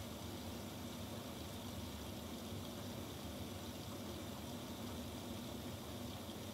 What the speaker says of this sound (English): for the final rinse of the lower level, this machine will do a two-stage rinse